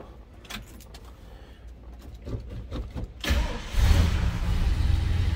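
Faint clicks and rattles, then the V8 engine of a 1979 Ford F250 Custom 4x4 pickup cranks and catches, settling into a loud, deep rumbling idle nearby.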